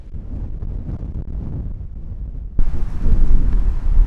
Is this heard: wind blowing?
yes